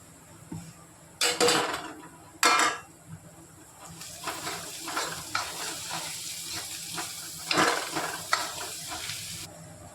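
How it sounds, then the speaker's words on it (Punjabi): Onions, green chillies and ginger frying in a pan with a soft sizzle, interrupted by loud bursts of hissing as ingredients are added and stirred, with scraping sounds. "ਜਿਵੇਂ ਆ ਤੜਕਾ ਮੈਂ ਭੁੰਨ ਰਿਹਾ"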